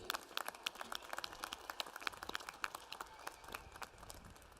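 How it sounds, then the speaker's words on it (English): Graduate Dean's List recipients at a 2023 CSULB Natural Sciences and Math commencement are met with faint, scattered clapping from a distant audience, the individual claps spaced and sparse across a few seconds. "Let's give a round of applause for our Graduate Dean's List recipients."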